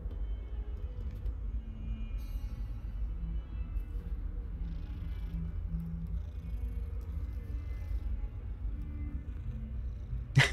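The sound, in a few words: cat purring in video game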